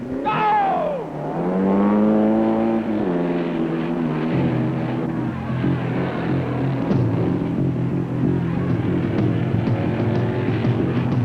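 A competition race car launches from the start, its engine note climbing steeply through rising revs, loud and close, then settling into a sustained high-revving roar.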